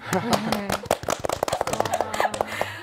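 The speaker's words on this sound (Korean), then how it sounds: "박수 한번." Short burst of applause from a studio audience on a Korean book talk show, scattered claps that thicken and then thin out over a few seconds, with voices briefly audible.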